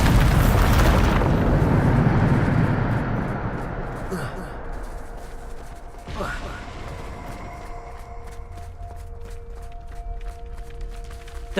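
A Bombarda spell explosion in the video game Hogwarts Legacy, a loud heavy boom up front that rumbles and decays over a few seconds, followed by smaller impacts and lingering background noise.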